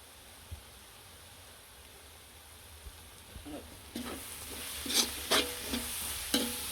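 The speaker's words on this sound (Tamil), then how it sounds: "கிண்டி விடுவோம்." Chicken kothu frying in a pan while spice powder is stirred in: a quiet low sizzle at first, then louder scraping stirs and sizzling bursts toward the end, with no voices.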